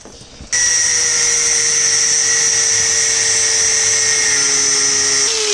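Angle grinder cutting through bolts on Volvo 340 strut assemblies, a loud, steady high-pitched whine with a strong tone that starts abruptly and holds for about five seconds, close to the listener.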